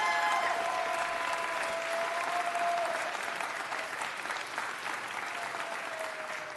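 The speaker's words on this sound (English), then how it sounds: "I'd like, in fact, one more round of applause for Councilmember John Lee." A room at a city council meeting breaks into sustained applause for a councilmember, dense steady clapping from many hands at moderate distance that slowly thins toward the end, with a faint tone lingering underneath.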